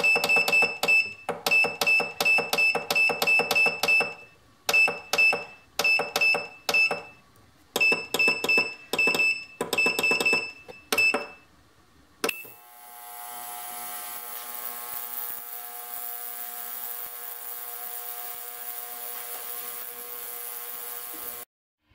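An ultrasonic jewelry cleaner gives a loud, close, repeated electronic beeping in rapid bursts with brief pauses, then a steady high buzzing hum that runs on without talk.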